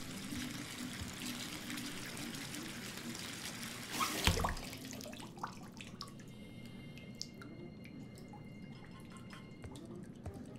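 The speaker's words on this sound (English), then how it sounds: "Don't let the tub overflow." In the video game Life is Strange 2, water fills a bathtub. A steady running flow gives way to a brief splashing surge, then thins to a quieter trickle with scattered drips.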